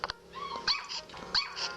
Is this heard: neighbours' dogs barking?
yes